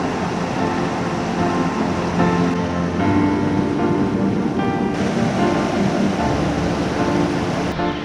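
Sweetwater Creek near Atlanta, Georgia, rushing steadily along a hiking trail, a loud, continuous broadband wash of flowing water with no voices, holding even throughout.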